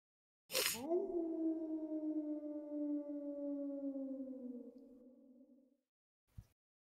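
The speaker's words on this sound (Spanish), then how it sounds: "en la madrugada, escucháis un aullido" One long wolf howl at dawn rises sharply and holds a wavering, slowly falling tone for about five seconds before trailing off, fairly distant and alone, followed by a brief soft knock.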